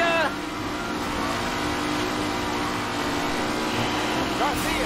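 A vintage racing car in the Mafia: Definitive Edition racing mission hums and whines steadily through its gears at speed, a continuous engine drone with rising pitch sweeps near the start and end, under a talking voice.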